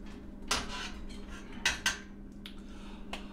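A metal spoon knocks and scrapes against a steel brew pot while hops are stirred into boiling beer wort, a few sharp clanks over a steady low hum of the burner.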